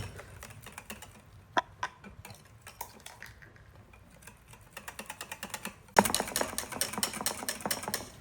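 A batter of flour is whisked briskly in a bowl, with rapid, rhythmic ticking strokes that grow louder and denser in the last couple of seconds.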